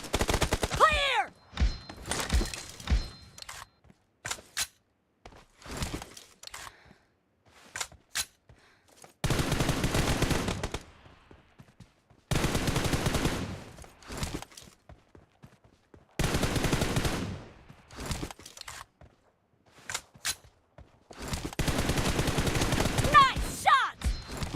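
Gunfire in the video game PUBG, repeated bursts of rapid automatic shots in long loud volleys separated by short gaps, with voices speaking between the bursts.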